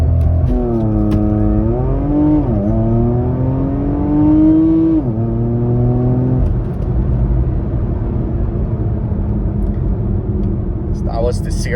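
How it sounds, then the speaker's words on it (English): A Porsche Macan GTS in Sport Plus mode launches hard from a standstill, its engine revving up loudly through several rising and falling gear changes, the roar easing back to a steady cruise. Brief talk is audible near the end. "So 0 to 100 kilometers per hour with launch control and being in Sport Plus"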